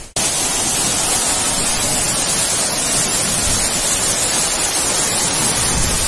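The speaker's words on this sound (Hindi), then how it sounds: "देखिए आप कितनी ऊंचाई से गिर रहा है इस झरने का पानी" The Kalpganga waterfall near Kalpeshwar temple in the Urgam Valley, with water dropping from a great height, gives off a dense, steady roar of rushing water that is loud and close and never lets up.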